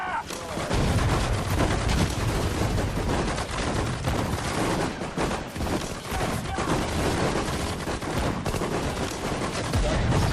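Dense, continuous gunfire with booming grenade launches and explosions from the Sudden Strike 4 strategy game's Battle of the Bulge fighting, loud and relentless throughout, with shouted voices mixed into the battle noise.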